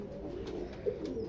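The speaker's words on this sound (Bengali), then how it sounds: "এই যে শেড কবুতরের মাশাআল্লাহ" Breeding pigeons housed in a shed coo quietly in a brief, continuous murmur, with a faint low hum of the enclosure around them.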